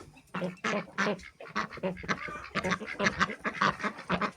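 Domestic ducks quacking nearby in a rapid, busy series of loud calls, several birds overlapping with no talk.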